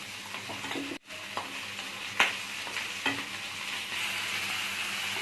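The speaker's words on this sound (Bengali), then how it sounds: "আমরা লতিটা দিয়ে এইভাবে আমরা আস্তে আস্তে করে নাড়বো" Taro stolons and prawns fry in a pan with a constant close sizzle, while a spatula stirs them slowly, giving a few scraping strokes and one sharp knock.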